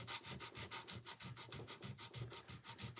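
Guitar frets being sanded with sandpaper during fret leveling and crowning, a steady back-and-forth rubbing rasp in even strokes, close and fairly quiet with no voices.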